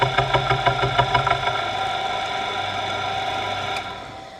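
An electric motor that tends to overheat, on a homemade micro lathe, runs with a steady tonal hum, first with a rapid rhythmic knocking pulse, then smoothing into a continuous drone, close and fairly loud.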